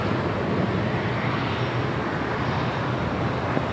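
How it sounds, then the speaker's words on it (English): A DHL Polar Air Cargo Boeing 747-8 arriving at LAX, a steady loud broadband jet roar that holds evenly throughout, with no voices. "Next arrival is at DHL Polar Air Cargo 747-8."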